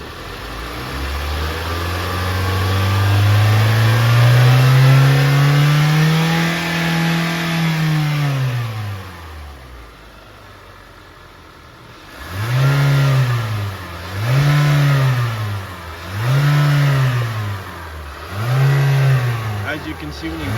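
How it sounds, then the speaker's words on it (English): A car engine revs in one long rising and falling sweep, then four short bursts of revving. Loud and close, with voices underneath. "Go ahead and rev it up."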